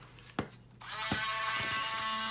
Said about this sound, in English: I'm just going to take my Dremel tool